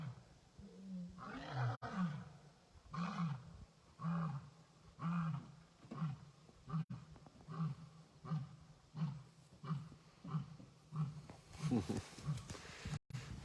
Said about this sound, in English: We have a lion song starting in the background.